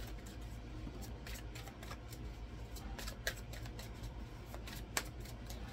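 Tarot cards from a love and romance deck are shuffled and handled quietly, with soft riffling and scattered small snaps and taps heard close up in a calm room.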